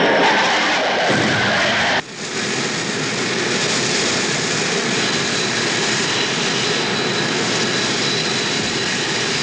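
Blue Angels F-4 Phantom jets streak past at over 500 mph in a loud, continuous jet roar that swells and holds, briefly dipping near the start.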